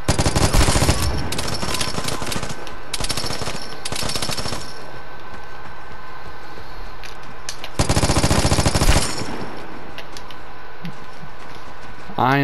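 Light machine gun in the shooter game Vigor, firing loud sustained bursts in several long strings separated by short pauses, dense and close, with faint ambient game sound between bursts.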